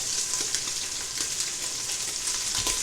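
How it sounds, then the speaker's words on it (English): Beef searing in a pot for Appalachian beef and vegetable soup, with a loud, dense, continuous sizzle and faint stirring scrapes, close and without voices. "Now by singeing this meat, what we're doing is bringing out all the flavor."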